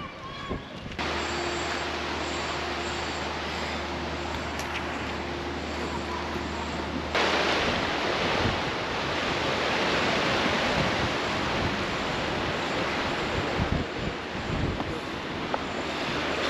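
A river rushes past a dam in the Scottish Highlands, a steady broadband roar of water mixed with gusty wind buffeting the microphone, loud and constant throughout.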